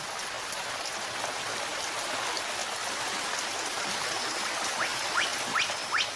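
Dense, steady hiss of rain falling on foliage in a Madagascan rainforest, blended with rushing stream water, with a few louder drips near the end.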